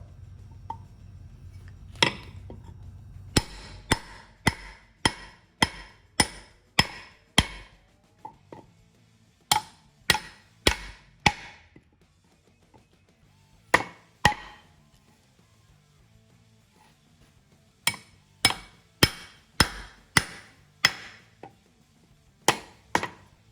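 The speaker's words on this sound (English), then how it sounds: "I'm gonna hammer it in there, hopefully, with this aluminum bar" Sharp metallic hammer strikes on a knife blade come in rapid bursts of several blows, separated by short pauses, loud and close.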